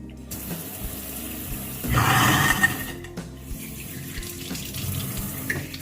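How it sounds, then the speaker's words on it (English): Hands are washed under a running kitchen tap, with a steady stream of water that swells into a louder, rushing splash partway through, then settles back to a softer flow. "Make sure I wash my hands."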